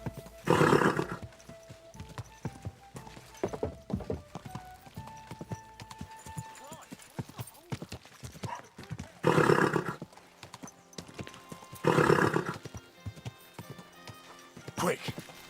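A horse in the video game Kingdom Come Deliverance II, hooves clip-clopping steadily with a few loud snorts or whinnies rising over the steps, while a voice talks intermittently.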